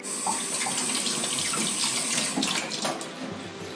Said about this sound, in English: Just gonna rinse them off before I just dump them in the water whole, like so.